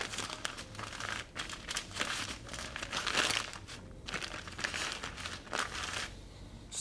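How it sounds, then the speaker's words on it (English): Grease-proof paper crinkles and crackles in steady bursts as it is rolled tightly around homemade vegan chorizo, close and fairly loud, with no talking. "we'll just roll it in the grease-proof paper"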